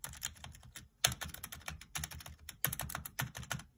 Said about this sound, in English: Here we got the modded Razer Huntsman Mini. The linear optical switches. It's modded with tape mod.